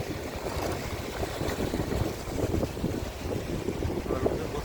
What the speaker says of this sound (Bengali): ওই যে ট্রলার দেখছো চলে গেল, ওটা কোস্ট গার্ডের।